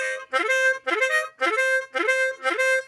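Harmonica plays five repeated upward glides, each landing on a held 4-draw note, close and clear with short gaps between them in a steady rhythm.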